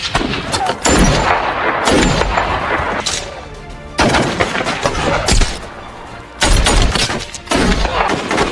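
Gunfire in a war film about a failed US military operation in Afghanistan: loud, close rifle shots and bursts with heavy thumps, coming in several clusters separated by brief pauses, with echoing crackle.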